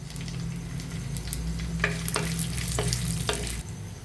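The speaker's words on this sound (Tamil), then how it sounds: "இப்போ சோம்பும் பட்டையும் போட்டு தாளிச்சுக்குவோம்." Fennel seeds, cinnamon and chilli tempering in hot oil, giving a close, continuous sizzle with scattered sharp crackles and pops.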